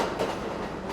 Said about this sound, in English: Metro,